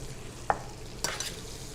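Shrimp cook in a pan for shrimp and grits, giving a faint sizzle with a quick stir and a couple of soft utensil clicks, no voices.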